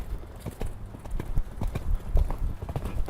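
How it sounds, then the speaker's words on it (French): A horse trots during a riding lesson, hooves striking the ground in a quick, even two-beat rhythm, close and distinct, with no voices over it. "Incurve le cheval."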